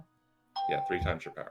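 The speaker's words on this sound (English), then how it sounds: "I'm pretty sure that was a Facebook notification, to be precise." A Facebook notification on a phone sounds a single short chime that is quickly overlapped by someone talking.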